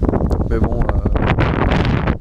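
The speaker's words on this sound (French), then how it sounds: "je sais qu'il y a le vent et qu'on m'entend pas bien" Wind buffets the microphone outdoors in a vegetable garden with raised beds, a loud, continuous rumbling roar with gusty bursts that nearly drowns out someone speaking French.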